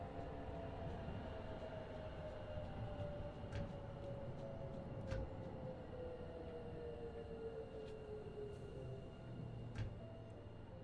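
A train in Train Sim World 6 rumbles steadily past a station on the high-speed line toward London, a continuous loud rolling drone with a sustained tonal whine and occasional sharp clicks, no voices.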